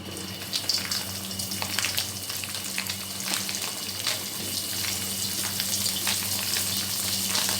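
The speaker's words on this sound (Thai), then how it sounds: "ผัดหมูค่ะ ใส่น้ำมันลงไปนะคะ" Pork stir-frying in oil for a northern Thai nam ngiao: a steady, loud, close hiss of sizzling fat runs throughout, with occasional stirring scrapes and no speech.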